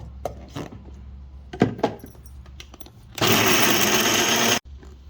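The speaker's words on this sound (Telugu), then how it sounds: "మిక్సీలో వేసేద్దాం." A mixer grinder whirs loudly for over a second as it grinds almonds into a paste, after a few light knocks and clatters of the jar being handled.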